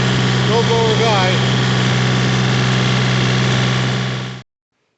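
A snowblower engine drones steadily close by while clearing light, fluffy snow from a first snowstorm in January, with a brief voice over the running motor before it cuts out near the end.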